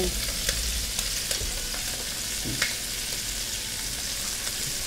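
Onions and carrots are tossed into oil infused with pepper and sautéed, giving a dense, continuous sizzle with a few light utensil clicks scattered through it, no voices.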